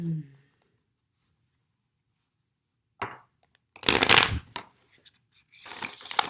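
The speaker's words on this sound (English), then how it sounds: "That shuffle was not as good." A deck of playing cards being shuffled, with short crisp riffle bursts separated by quiet gaps, close and clear, with brief rustles of handling.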